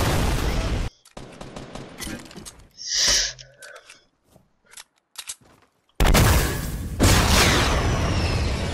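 Loud bursts of video-game gunfire, some from a sniper rifle, come in heavy blasts that break off into quieter gaps with scattered shots, then return as dense, sustained firing.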